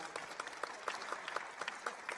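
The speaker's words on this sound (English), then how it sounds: "Give her a round of applause again, guys." Audience at a women's panel discussion applauding, a faint, distant patter of many hands clapping with a few sharper individual claps standing out.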